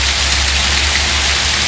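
Heavy January rain pours down steadily in the sertão of Pernambuco near Serra Talhada, a loud, dense, unbroken roar of downpour close by with no thunder.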